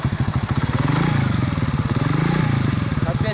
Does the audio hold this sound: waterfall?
no